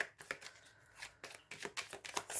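Tarot cards are shuffled for a reading in soft, quiet bursts of riffling and flicking, a few irregular rustles close by with no voices.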